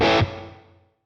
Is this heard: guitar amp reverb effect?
yes